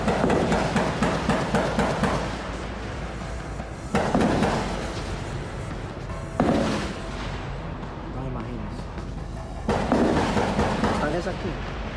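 Gunfire and explosives go off during a brutal ambush, caught by neighbors as a dense, noisy recording with rapid bursts of shots and several heavier blasts recurring across the scene.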